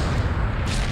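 A grenade launcher explosion in The Punisher on PS2: a loud, dense roar of blast noise filling the whole second, with a brief brighter crackle toward the end and no voices.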